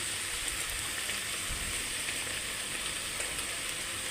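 Spices and onion sizzle in a pan with a steady, even crackle throughout, close and fairly quiet, with no talking.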